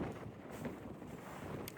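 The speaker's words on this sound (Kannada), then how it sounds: "ಗಾಳಿ ಜಾಸ್ತಿ ಇದೆ" Strong outdoor wind buffets the microphone in a steady, close, rumbling roar that lasts throughout, with no voices.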